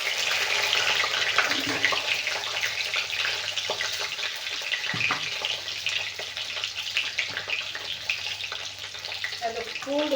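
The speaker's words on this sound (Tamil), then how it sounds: "அதனால் பூண்டை ஃபஸ்ட்லேயே போட்டுடலாம். அது பொரியட்டும்." Garlic frying in hot oil alongside urad dal in a pan, a steady bright sizzle and crackle running throughout at moderate loudness, with faint stirring clinks near the end.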